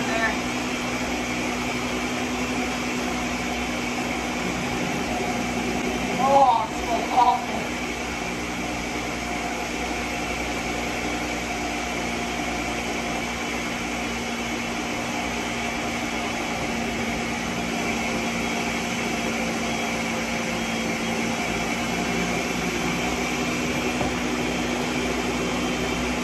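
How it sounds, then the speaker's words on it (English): A blender motor drones steadily and loudly for the whole stretch while blending Popeyes fried chicken, with a couple of brief knocks partway through and no talking. "I love this blender"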